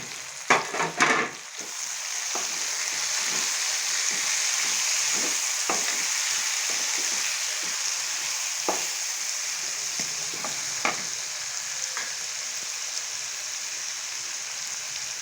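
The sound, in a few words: tomatoes frying and being stirred in masala paste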